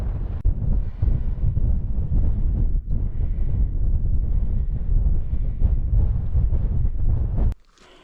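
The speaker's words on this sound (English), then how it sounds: "Whew, blowy on here." Strong wind buffets the microphone on the Skiddaw mountain ridge in the Lake District, a loud continuous low roar with gusty surges that cuts off just before the end.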